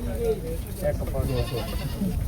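Goats bleat in short, wavering calls at a busy livestock market in Bargari, Punjab, while traders talk loudly over them.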